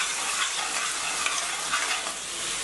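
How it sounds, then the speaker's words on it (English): Tomatoes sizzling in a pan over a medium flame for radish sambar, a steady bright frying hiss with soft scraping stirs throughout, no voices. "Mix well and give it a good stir."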